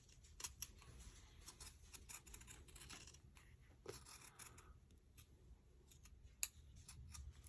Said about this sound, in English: I'm going to trim about 1/4 of an inch or so on the outside of that stitched line